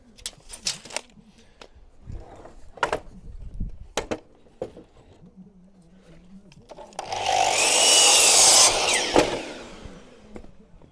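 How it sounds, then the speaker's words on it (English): A power saw cuts a piece of timber for a garden room door lintel, starting with a loud rasping burst of about two seconds after scattered knocks and handling noise. "we'll cut a piece of timber to 643"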